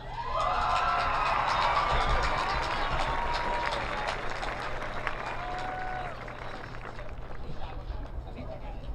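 A graduation crowd for the WHS Class of 2022 breaks into sustained applause and cheering, loud at first and then gradually thinning, with scattered whoops over the dense clapping.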